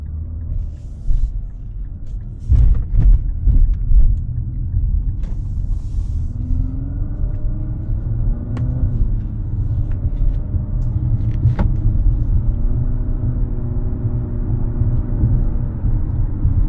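A 268-horsepower 2024 Infiniti QX50 engine rumbles steadily from inside the cabin while driving, with a rising whine as it accelerates and a few creaks and knocks over the drone.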